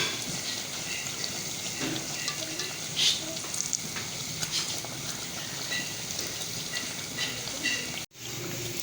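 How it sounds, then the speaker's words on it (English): Bread slices fry in a pan for shahi tukda, giving a steady close sizzle with soft crackles and a brief stir, cutting out abruptly near the end. "Keep frying it till it gets golden brown like this."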